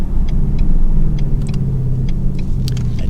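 A Ford Mustang GT coupe's 5.0 V8 engine pulls with a steady, loud, deep rumble under acceleration on a quiet road, the low drone holding even throughout with faint higher ticks and rattles on top.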